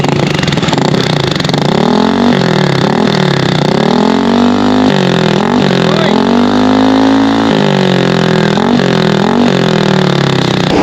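Motorcycle fitted with a GP2 silencer exhaust, revved repeatedly up and down, loud and close, the engine note rising and falling in swooping sweeps with no talk over it.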